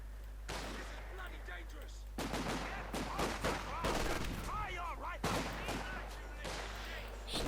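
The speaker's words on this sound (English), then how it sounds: "Sniper taking for hit, MG42 opening up." MG42 machine gun fire in Company of Heroes 2 comes as rapid bursts mixed with other battle gunfire and explosions, fairly faint beneath a steady low hum.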